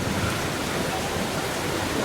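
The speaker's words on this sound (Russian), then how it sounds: "Ливень идет." Heavy downpour during a thunderstorm at a lakeside holiday base near Bishkek, Kyrgyzstan, a steady dense roar of rain filling the whole clip at constant loudness, close and continuous.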